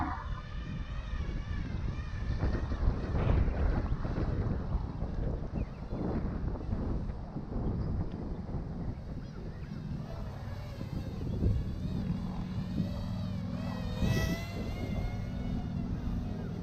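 A Parrot Mini Drone fitted with Ryze Tello propellers flies in extreme wind, its steady buzzing whine mixed with heavy rumbling wind noise on the microphone throughout, and a voice briefly exclaims near the end.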